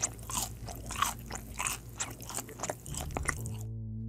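Mukbang eater biting and crunching through big portions of home-cooked and takeout food, close and loud, with a steady run of crisp crunches and wet chewing, then an abrupt cut to near-silence at the end.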